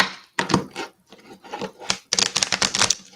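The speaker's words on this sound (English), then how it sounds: "Let me go ahead and do a shuffle." A new tarot card deck is shuffled by hand: quick papery riffles and rubs in several bursts, close and clear, with short pauses between them and no talking.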